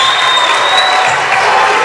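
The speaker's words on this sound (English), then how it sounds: "The crowd is definitely hyped up right now" A basketball crowd at a Lancers versus Cougars game cheers and applauds after a made basket, a dense, loud, steady roar of clapping and voices filling the whole moment.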